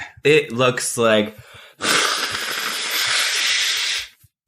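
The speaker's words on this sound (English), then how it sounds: "I was just blowing my nose" A person speaks briefly, then blows their nose with a single long, forceful, hissing blast that lasts about two seconds, close to the microphone, before falling silent.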